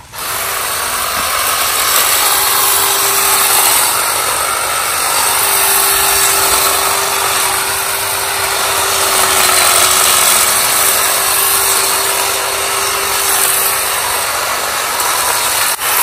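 A power tool trimming garden plants runs continuously and close by, a loud buzzing, ratcheting mechanical drone with a steady whining tone that holds for several seconds, drops briefly and resumes, with no talking.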